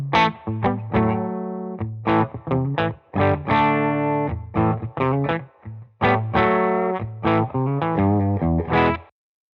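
A Les Paul electric guitar played through a Veri-Tone Azzurro tube preamp pedal into a Benson Amps Monarch reverb amp, with crunchy, slightly distorted picked notes and chords in a steady phrase running for several seconds, close and alone.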